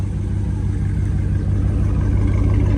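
Catless Dodge Scat Pack idling, its exhaust giving a steady, deep, loud rumble close by, with no voices over it.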